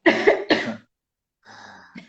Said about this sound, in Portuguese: Vou falando e vou tossindo.